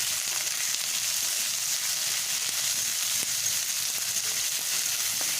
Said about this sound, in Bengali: পেঁয়াজটাকে এবারে আমি ভালো করে ভেজে নেব